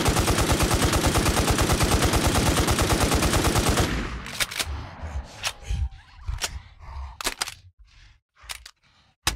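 An FN machine gun in the video game Infestation SEA fires a long rapid continuous burst, loud and close, then stops, followed by scattered clicks and thuds.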